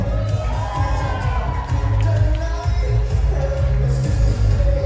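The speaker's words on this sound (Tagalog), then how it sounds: "Once again, isang sigawan para kay Mr. and Mrs. Tango" Wedding guests cheer and shout for the newly married couple at a reception, a dense, loud crowd roar with whoops and children's shouts sustained throughout.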